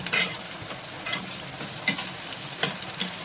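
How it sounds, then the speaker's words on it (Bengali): Carrots fry in a pan with a steady close hiss, broken by a few brief scrapes as a spatula moves them around. "প্রথমে গাজরটা একটু ভেজে নিচ্ছি"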